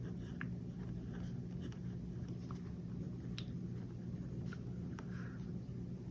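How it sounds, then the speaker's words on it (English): A pen writes notes in a weekly planner, giving faint, close scratching and light tapping strokes over a quiet room hum. "I'm going to write that down."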